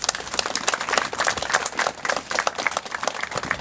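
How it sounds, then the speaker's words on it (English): Parade participants give a brisk round of applause, dense crowd clapping that stays fairly loud and steady for a few seconds with no talk. "Round of applause for yourself, everybody."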